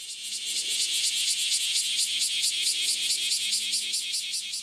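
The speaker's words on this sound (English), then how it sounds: "The mating call of male periodical cicadas that have been trapped underground and sexually frustrated for 13 years." Male periodical cicadas of a 13-year brood sing their mating call, a loud, dense, pulsing high buzz that swells and throbs rhythmically throughout, with a faint low hum underneath and no talking.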